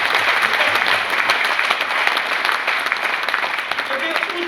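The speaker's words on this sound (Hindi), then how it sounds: "एक बार कोठारी सर के जबरदस्त ताली बजाइए।" Audience applause at a seminar, a dense steady wash of many hands clapping throughout, fairly loud and even, with faint voices mixed in.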